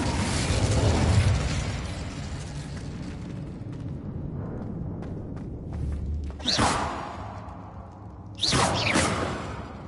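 An Incendio fire spell is cast in Hogwarts Legacy: a loud rushing burst of flame and rumble at the start that fades, then two sharp whooshing bursts of fire erupt later.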